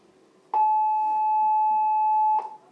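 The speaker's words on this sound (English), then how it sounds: "That would be the tardy bell." School tardy bell ringing in a classroom, a single steady electronic tone that starts abruptly, holds for about two seconds and then cuts off, loud and alone.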